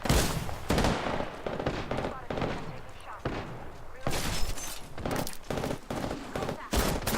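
Rapid bursts of automatic gunfire in the online shooter Apex Legends, loud and close, cracking in dense volleys with short gaps between them while a player talks over the shooting.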